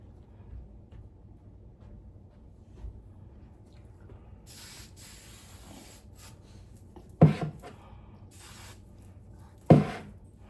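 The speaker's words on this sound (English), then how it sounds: "me spray some oil in your hair." Short hissing sprays from a pump bottle spraying oil onto hair, a few separate bursts, close up, with two sharper knocks and quiet rustling in between.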